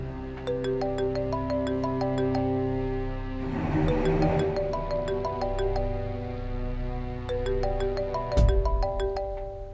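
A phone ringtone for an incoming call plays a steady, repeating melody of bright electronic tones through the whole stretch, fairly loud and close, with a soft thump near the end and no talking.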